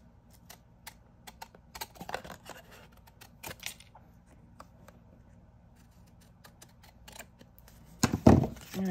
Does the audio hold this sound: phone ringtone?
no